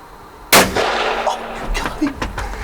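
A single sharp gunshot cracks out during an evening hunt, loud and close, then a ringing tail with faint rustling and movement afterward.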